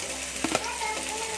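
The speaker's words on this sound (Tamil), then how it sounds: "அது கொஞ்சம் ஹீட்டானதுமே ஆயிலு நம்ம ஃபஸ்ட்டு ஆனியன்ஸ் போட்டுக்கிறேன்." Onions tipped into hot oil in a pan for homemade veg Hakka noodles, giving a brief clatter and hiss that settles into a steady, moderate sizzle, with no talking.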